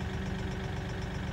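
A vehicle engine runs steadily and fairly loud while plowing deep snow in a yard at dawn, its low, even rumble holding without pause and with no talk over it.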